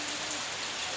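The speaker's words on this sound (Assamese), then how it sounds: "বতৰটোহে বেয়া কৰিলে বৰষুণ দিছে" Rain falls steadily on Diwali, a dense, even hiss of drops striking surfaces close by, with no voices over it.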